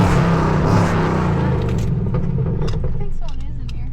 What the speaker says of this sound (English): I'm gonna rev this bitch like once or twice.